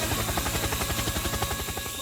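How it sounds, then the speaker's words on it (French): A cheap remote-control toy helicopter whirs with a fast, steady rotor buzz and rhythmic pulsing, close and continuous for a couple of seconds with no talking. "C'est un hélicoptère et une télécommande."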